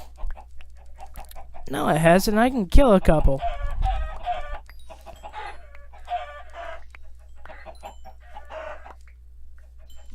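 Minecraft chickens clucking in a farm pen, several short bursts early on, then fainter repeated clucks, with someone speaking over much of it.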